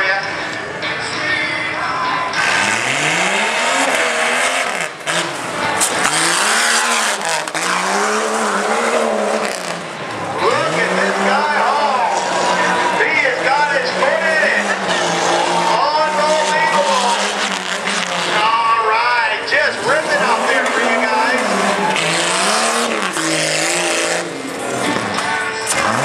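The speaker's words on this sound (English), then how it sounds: "That's Tough Truck racing for you." A 1994 Jeep Grand Cherokee tears around a Tough Truck race course, its engine revving hard and falling repeatedly in surging waves, loud and close, with tire noise and a commentator talking over it.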